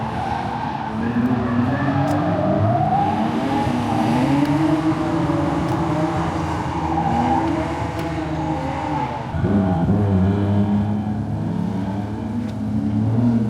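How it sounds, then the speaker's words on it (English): A car drives home on the road after a drift day, its engine droning steadily and loudly throughout, with gear-change dips and smooth rising and falling revs. "now I'm just driving home like nothing had happened"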